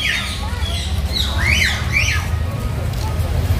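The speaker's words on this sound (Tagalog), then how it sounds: "hindi siya uwak. Loro siya." A black parrot gives several harsh, rising squawks in quick succession, loud and close, over a low rumbling background.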